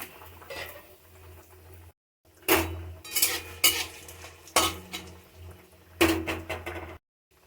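Five-spice, bay leaf and dried chili hit hot oil in a pan, giving bursts of crackling sizzle broken by short silences, with metal-on-pan clinks and stirring scrapes up close.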